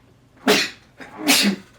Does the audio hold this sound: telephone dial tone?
no